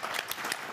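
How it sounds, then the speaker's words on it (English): A brief, faint patter of audience applause at a panel introduction, a few scattered claps blending into a soft wash. "we should clap."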